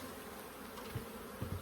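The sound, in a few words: buzzing honeybees in an open hive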